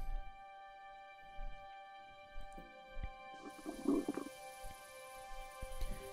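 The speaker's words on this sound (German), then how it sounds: "Langsam knurrt der Magen." A hungry character's stomach growls in Kingdom Come: Deliverance, a low rumbling gurgle midway through, over a steady game ambience with faint tonal hum and soft background sounds.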